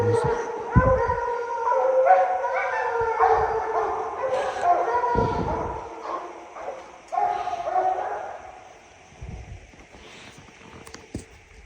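Several dogs bark and yip in a busy chorus with some drawn-out howling, fairly close, with short bursts of sound throughout.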